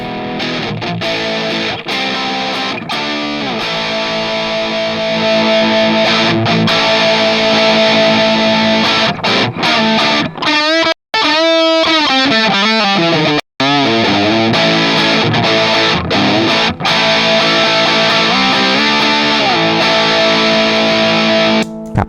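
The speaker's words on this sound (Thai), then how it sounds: "เอาต่อเสียงแตกเข้ามานะครับผม" Electric guitar with an external distortion pedal feeding a Flamma FS06 preamp, loud and saturated, playing a continuous run of chords and riffs with a bending, wavering passage midway and two brief cutouts.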